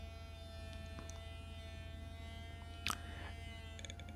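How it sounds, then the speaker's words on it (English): A DeWalt thickness planer runs steadily with a shop vacuum switched on, giving a constant loud motor hum and whine with a brief sharper knock near the end. "powered the planer back on, turned on my vacuum, and just going through this another round."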